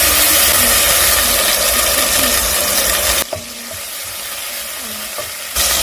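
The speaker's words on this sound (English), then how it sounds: "And then I'm going to fry my onions to golden brown." Onions and garlic fry in oil in a pot, a loud dense sizzle that fills the space, then drops sharply partway through before surging back up near the end, with no talking.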